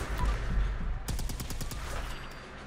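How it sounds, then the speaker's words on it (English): B3325 plasma gun fired at sentry bots in Fallout 76, a tight volley of rapid, evenly spaced shots about a second in, standing out over steady game noise with no talk. "it shoots 2 bullets at the same time once I just click the button once"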